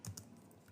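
Short burst of computer keyboard typing, a few quick keystrokes close by at the start over a quiet room hum, with no voices.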